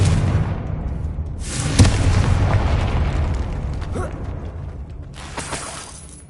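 A fire-blast spell from the video game Hogwarts Legacy erupts with a loud booming burst, followed by crackling shatter and a rumbling tail, with another bright burst near the end.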